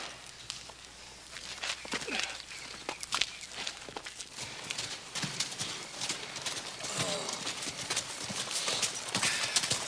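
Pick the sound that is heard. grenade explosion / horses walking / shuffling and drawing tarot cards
horses walking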